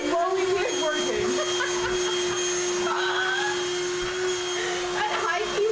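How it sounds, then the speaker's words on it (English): A vacuum cleaner runs close by with a loud, steady whining drone that holds an unchanging pitch throughout, while voices talk over it. "It's a vacuum cleaner."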